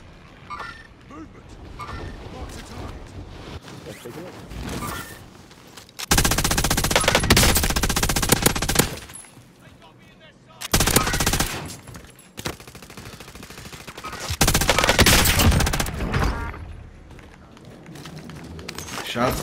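Bursts of automatic gunfire in Call of Duty Warzone erupt in several loud, sustained stretches of a few seconds each, with quieter game sounds and voices talking in between.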